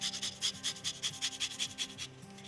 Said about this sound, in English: So just with a fine grater, I'm just going to pare the rind from the orange.